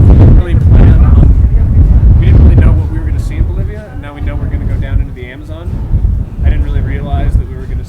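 Strong wind buffets the microphone at just over 14,000 feet in the Andes of Bolivia, a loud rumbling roar that gusts and eases, with people talking faintly in the background.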